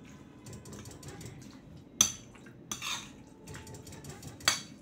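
A spoon stirs egg tuna sandwich filling in a bowl: soft, steady scraping and squelching, broken by a few sharp, louder clinks against the bowl.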